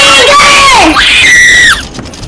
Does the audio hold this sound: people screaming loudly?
yes